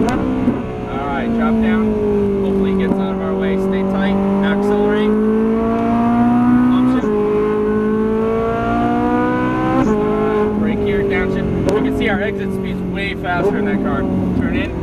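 A Ferrari 458 Italia's engine is driven hard on a race track. Its loud, steady high-revving whine climbs through the gears, with clear breaks at gear changes and near-constant volume throughout.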